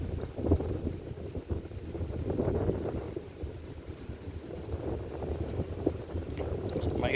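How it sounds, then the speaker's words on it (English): Strong gusting wind buffets the microphone on top of a big forest bluff, a low rumbling roar that swells and eases unevenly for several seconds, with no clear talking. "It's extremely windy out today"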